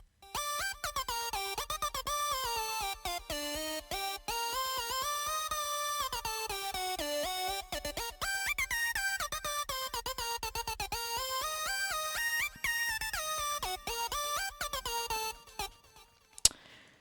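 FL Studio piano roll melody for Friday Night Funkin' style music: a quiet, bright synth lead racing through rapid notes that glide up and down in a busy, continuous line, alone with no voices, ending abruptly.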